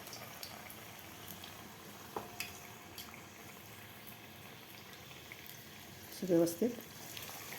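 Spinach and potato rolls dipped in gram flour batter frying in hot oil give off a faint, steady bubbling sizzle, with someone speaking briefly near the end.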